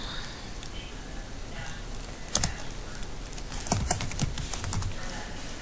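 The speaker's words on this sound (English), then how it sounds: "I'm going to start typing A," Keys clacking on a computer keyboard in short irregular bursts, with a few louder taps standing out near the middle, no voices.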